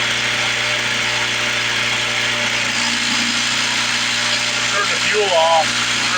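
A 1970 Lawn-Boy Buttercup mower engine runs with the fuel shut off to burn the carburetor dry, a loud, steady droning roar that continues throughout, with a voice briefly heard over it near the end.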